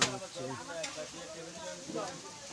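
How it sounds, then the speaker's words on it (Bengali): Rohu fish heads sizzling and frying in a pan at a large memorial cooking event, a steady crackle with a few stirring scrapes, and voices underneath. "রুই মাছের মাথা, সব রুই মাছের মাথা এখানে রান্না হচ্ছে।"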